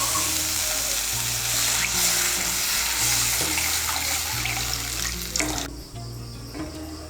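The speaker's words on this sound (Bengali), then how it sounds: "এর মধ্যে আমি দিয়ে দিচ্ছি 1 কাপ আর 1/2 কাপ গরম জল।" Hot water pours into a sizzling egg curry spice mixture in a pan, giving a loud, continuous hissing gush that cuts off abruptly near the end and leaves a quieter bubbling.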